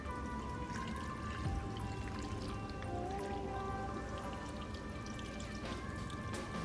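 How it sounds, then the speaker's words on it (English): Broth poured over a Mexican beef and rice casserole in a baking dish, a steady splashing trickle with dripping sounds continuing evenly throughout, no speech. "now we're going to take our broth and we're going to pour it over the top."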